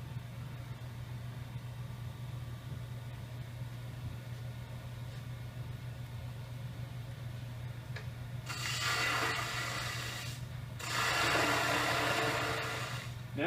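A wood lathe hums steadily as the tenon is cut off a lidded bowl, then the gouge bites in with two loud, rough scraping bursts over the constant motor drone.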